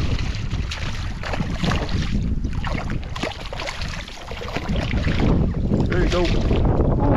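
Steady wind roars across an open marsh, buffeting the microphone continuously with a boat-like rumble on the water, while someone speaks briefly near the end.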